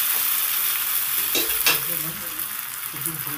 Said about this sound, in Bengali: আলু আর পটলটাকে মশলার সাথে 2-3 মিনিট ভালো করে কষিয়ে নেব।